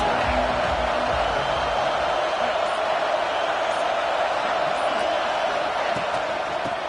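A stadium crowd roars in a college football video game, a dense, loud and steady wall of cheering that lasts the whole stretch without letting up.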